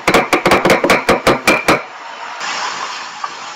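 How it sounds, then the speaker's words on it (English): Garlic and salt are pounded in a mortar with a pestle: about nine loud, close, evenly spaced strikes in quick rhythm, then the pounding stops and only a soft hiss remains. "Throw your garlic and your salt into there. And just grind them down."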